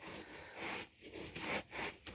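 Hands rub and stir a row of sunflower seeds drying outdoors, producing a close, steady rustling scrape in short rhythmic sweeps.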